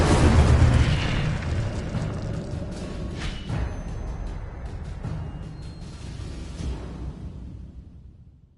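Fire spell blasts cast in a Hogwarts wizarding video game: a loud, rumbling explosive boom that swells at the start, then sustained crackling burst and whoosh noise with a few sharper pops, fading out at the end.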